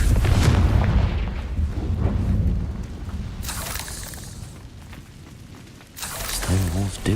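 A Confringo fire spell from Hogwarts Legacy bursts with a heavy booming explosion at the start, followed by crackling, rumbling debris and further sharp impacts amid busy game combat noise.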